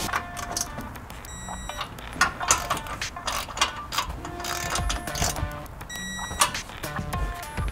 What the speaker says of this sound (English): now that we snugged them down, you're gonna go ahead and torque them to 30 foot-pounds